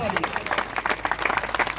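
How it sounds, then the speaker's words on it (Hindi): A crowd claps together at a PTI political meeting, a dense patter of many hands through a brief burst. "लोग यहाँ पे शामिल होने के लिए आए, उनके लिए भरपूर ताली।"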